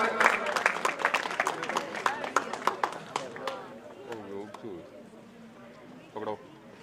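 Clapping from an audience at a tehsil-level Prajapati talent award ceremony, welcoming a top commerce student; a dense burst of claps fades after a few seconds, and a voice talks over the quieter tail.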